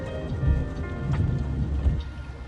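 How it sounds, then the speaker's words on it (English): Steady rain hisses in the background while low rumbling thunder rolls beneath it, with no voices. "We can hear the music and rain on speaker"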